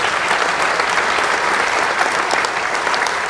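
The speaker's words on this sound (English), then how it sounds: "so let's give them a round of applause" A crowd at a fire academy cadet graduation ceremony gives a loud, sustained round of applause, dense and even throughout with no speech on top.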